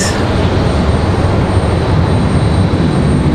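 An Icelandic airliner taxis toward the gate at Raleigh-Durham airport, its jet engines giving a loud, steady, broadband roar that holds unchanged for the whole stretch.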